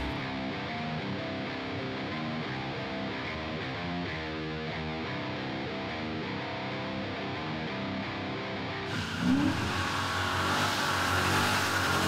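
A 2012 Dodge Challenger with a 5.7 engine accelerating hard on a test drive, a loud continuous engine roar that climbs through the gears, turning rougher and noisier toward the end.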